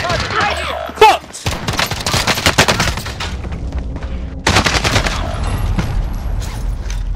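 Sustained gunfire in Call of Duty: Modern Warfare, a dense run of loud, rapid shots with a short lull before heavy bursts resume, rattling close by and without voices.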